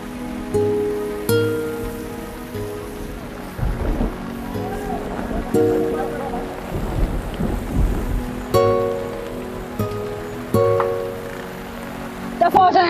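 Steady rain falls with rumbles of thunder in a dramatic TV scene, a constant wet hiss overlaid with tonal music and occasional sharp accents throughout.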